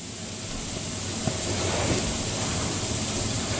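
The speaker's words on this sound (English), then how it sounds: "Throwing more of that ghee on" Ghee sizzling on a makai paratha (corn flatbread) frying in a pan: a steady, loud, close hiss that holds evenly throughout with no talk.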